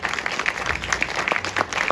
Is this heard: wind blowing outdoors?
no